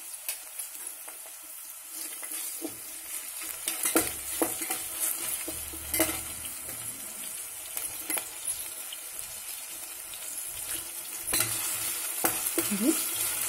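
Onions and ginger-garlic paste frying in a pan for a beans and dry fish curry. A steady sizzle runs throughout, broken by scraping stirs around 4, 6 and 11 seconds.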